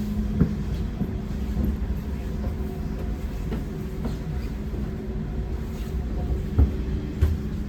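Double-decker train ride toward Heidelberg, Germany, a steady rumbling interior hum with faint rhythmic clacks and occasional knocks, no talk.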